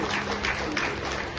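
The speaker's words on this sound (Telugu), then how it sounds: "మీరు గట్టిగా రెండు చేతులు చప్పట్లు గట్టిగా చేస్తున్నాం" An audience applauding at a school gathering with parents present: a dense, steady wash of many hands clapping together, close and sustained without a break.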